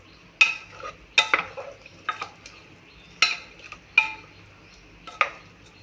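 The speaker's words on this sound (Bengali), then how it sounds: "আর দিয়ে দেব গোলমরিচের গুঁড়ো। দিয়ে আমি আরেকবার নাড়িয়ে নেব।" A spoon stirs chicken stew in a pot after black pepper powder goes in, producing sharp scraping clinks against the metal at irregular intervals over a faint simmering hiss, close and fairly loud, no talking.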